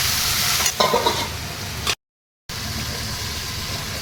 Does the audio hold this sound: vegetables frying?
yes